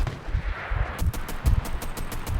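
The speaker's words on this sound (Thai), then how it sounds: "นี่ไง ยิงกันแหลกเลย" Rapid gunfire crackles in the World War II shooter Enlisted during a beach-landing battle, sharp bursts repeating every fraction of a second over a rumbling background, loud and close.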